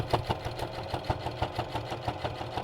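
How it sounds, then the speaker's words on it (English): A Singer sewing machine stitches through several layers of fabric for a bowl cozy, its needle thumping in a fast, steady rhythm with a mechanical hum underneath, close and alone. "Sewing through all of these layers."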